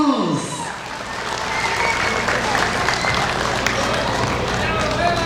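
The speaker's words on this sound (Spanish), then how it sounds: "fuerte los aplausos" Wedding guests applaud the couple at a village celebration, a broad, steady wash of clapping and crowd murmur under a voice at the start.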